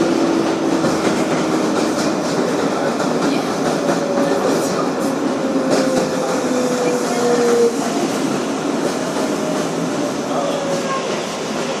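Onboard a 2012 Kawasaki R-188 car on a Queensboro Plaza bound 7 train, a sustained rumble with rhythmic wheel clatter and a faint rising motor whine, near and steady for the whole stretch.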